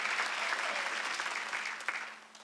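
A church congregation at a Wednesday worship service claps together in a dense, sustained burst of applause that slowly thins toward the end, heard up close and without talk.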